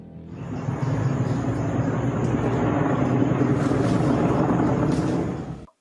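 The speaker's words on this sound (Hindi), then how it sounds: "ऐसे में वायुसेना के चिनूक हेलीकॉप्टर से मशीनरी एयर ड्रॉप करने की तैयारी कुल्लू जिले में है।" An Indian Air Force Chinook helicopter in Kullu district, Himachal Pradesh, gives a loud, steady rotor and engine roar that holds for about five seconds before cutting off abruptly.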